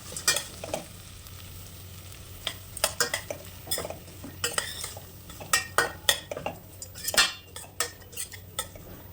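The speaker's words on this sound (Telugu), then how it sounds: "అలానే కొంచెం పసుపు యాడ్ చేసుకొని బాగా కలుపుకోవాలి" Spoon or spatula scraping and clinking against a pan while stirring a potato and carrot fry with turmeric, a low sizzle underneath and the strokes growing more frequent and sharper toward the end, with no talking.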